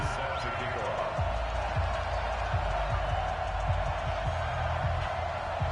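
A stadium crowd roars steadily in an EA Sports NFL game between the Baltimore Ravens and the Kansas City Chiefs, a dense continuous wash with dull thumps scattered through it, while a commentator talks over it.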